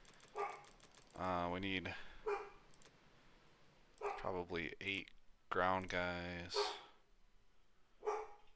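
A dog barks in the background in several short bursts, some sharp and some drawn out, fairly loud against a quiet room, while someone talks in between.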